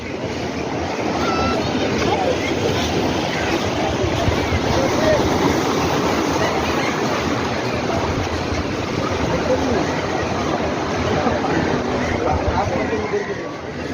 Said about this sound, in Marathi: हा समुद्राचा आवाज बघा किती सुंदर